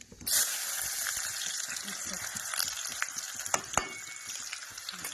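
Chopped onion drops into hot oil with a sudden burst at the start, then settles into a steady, close frying sizzle with a few sharp crackles and pops. Faint kitchen noise runs underneath.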